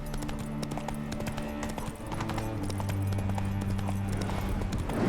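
Hooves of Geralt's horse Roach in The Witcher 3 clip-clopping in a steady, close rhythm over a sustained game music drone, with no voices.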